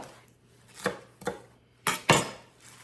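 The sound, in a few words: knife cutting food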